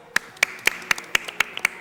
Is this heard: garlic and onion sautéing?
no